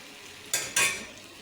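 Ash gourd peel and potato stir-fried in oil, two short scraping stirs of a spatula over a quiet sizzle, each lasting a fraction of a second.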